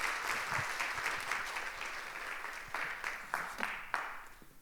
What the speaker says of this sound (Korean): 박수로 목사님 영접하겠습니다